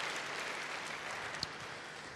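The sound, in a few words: congregation applause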